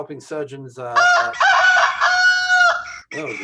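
A rooster crowing timer sound effect, a loud, close cock-a-doodle-doo call preceded by a few short clucks, ringing out clearly on its own.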